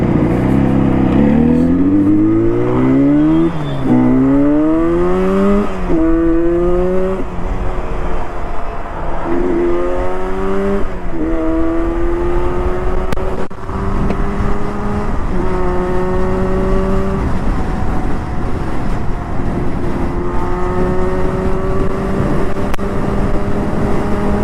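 A Yamaha RD350 two-stroke motorcycle engine revs hard and loud, rising in pitch through repeated upshifts as it accelerates at speed, a continuous close-up wail over about twenty-five seconds.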